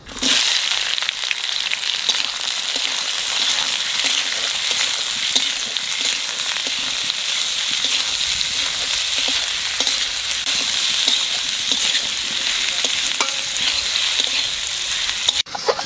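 Onions and bay leaves frying in oil for a mutton dish, a loud continuous sizzle with frequent crackles and stirring scrapes, close up and sustained.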